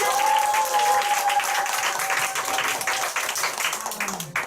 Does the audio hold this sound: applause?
yes